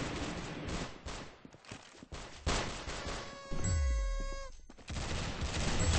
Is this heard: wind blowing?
no